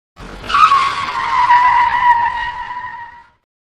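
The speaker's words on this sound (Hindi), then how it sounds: "उनकी एसयूवी एक झटके से रुक जाती है" An SUV skids to a sudden stop with a single loud, drawn-out tire squeal lasting about three seconds, starting sharply and fading as the vehicle halts.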